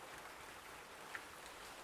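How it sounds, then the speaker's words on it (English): Rain falling in the video game Butterfly Soup 2, wind-blown and driving inward, a faint, steady patter with one small drop-like tick, no voices. "The wind's blowing the rain inward."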